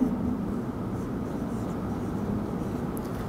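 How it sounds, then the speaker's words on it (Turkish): Pen or pencil writing numbers by hand makes a continuous soft scratching across the surface for a few seconds, close and fairly even, with no talking over it. "Direkt burada yazıyorum."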